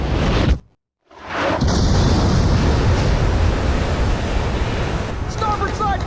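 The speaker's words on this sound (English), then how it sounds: "We've been hit by 2 sub-launch missiles" Missiles strike a ship in Ace Combat 5, a heavy roaring impact wash that cuts out briefly and returns as a sustained loud rumble like surging water, with radio voices over it.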